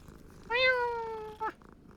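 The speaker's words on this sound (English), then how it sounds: "it's a cat" A cat in the video game Hogwarts Legacy gives a single drawn-out meow lasting about a second, loud and close, ending in a short upturned chirp, alone against quiet background ambience.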